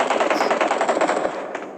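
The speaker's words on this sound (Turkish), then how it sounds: "Ya az önce şuradan silah sesi geliyordu ya." Rapid automatic gunfire in a video game rattles in a steady burst, loud and continuous, tapering slightly at the end.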